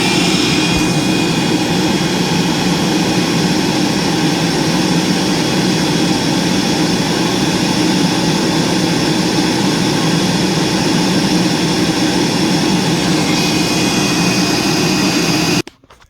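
Steady loud roar and whine of a Dirt Devil 6200 vacuum cleaner running reclined on the floor without its brush roll, holding constant for about fifteen seconds before cutting off abruptly.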